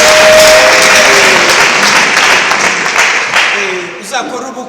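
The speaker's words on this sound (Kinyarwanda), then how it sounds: "duha Imana amashyi we" A church congregation bursts into loud applause that holds steady, then thins out as a voice begins speaking near the end.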